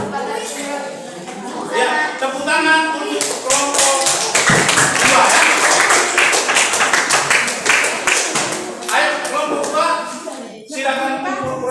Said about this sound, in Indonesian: tepuk tangan untuk kelompok 2 ya.